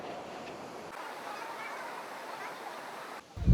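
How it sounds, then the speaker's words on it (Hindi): Monsoon-swollen waterfall on a Chakrata ride in Uttarakhand, swelled by two days of rain, giving a steady broad roaring wash of water that holds evenly throughout, ending in a brief louder bump. "मेरे बैक साइड में वाटरफॉल है।"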